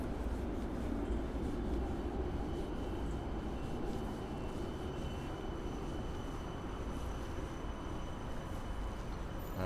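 A tram rumbles past at a busy Helsinki street intersection, a steady low rolling rumble mixed with traffic noise for several seconds, fairly distant, with no speech.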